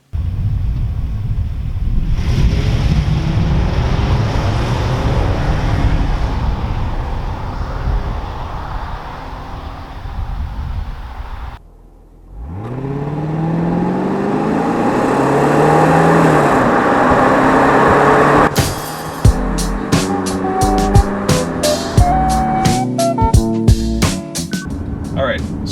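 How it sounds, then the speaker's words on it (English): A 2001 BMW 740i M-Sport accelerates hard in sport mode through a 0 to 60 run, a loud rushing engine and wind noise that pauses briefly for a gear change, then climbs again before clicking interior sounds. "when we do this 0 to 60 run, I think that upgraded differential is really going to help to put power to the ground"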